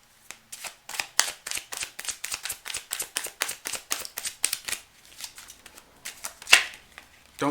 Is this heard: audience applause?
no